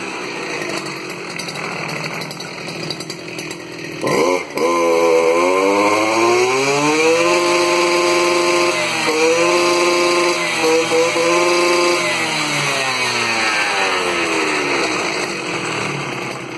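A KA 120 R motor cultivator's small engine cranks, catches and then runs steadily up close, its revs rising and dipping in harmonic sweeps before settling into a loud, continuous drone with no talk over it.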